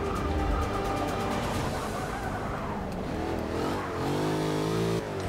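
Race car engine in Forza Motorsport 6 screams under hard acceleration, its pitch climbing and then dropping through quick gear shifts, loud and continuous throughout with a brief tyre scrub.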